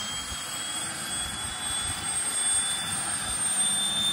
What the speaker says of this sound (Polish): Samolot zatankowany, zaraz będzie odpalał piękny samolot